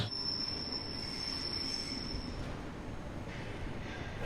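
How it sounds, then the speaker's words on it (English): A train rolls along the rails with a steady rumble and a high, thin wheel squeal for the first half, fading afterward. "We are on our final train of the day, going to Interlaken, and we're off."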